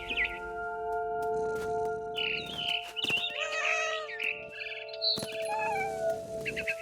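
A cat meows and a barn swallow chirps in the video game What Remains of Edith Finch, with bright calls rising over a steady background hum and a few sharp bumps.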